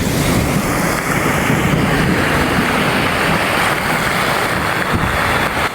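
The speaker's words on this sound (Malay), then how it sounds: "Oh, hujan memang lebat gila lah." Heavy rain pouring down outdoors with lightning about and water rising, a steady loud dense wash of noise with some wind buffeting, no talk.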